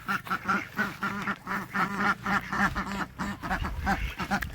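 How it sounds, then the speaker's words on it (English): Ducks on a farm quack in a busy, overlapping chorus, rapid nasal calls repeating close by with a brief soft voice underneath. "Hi, duckies."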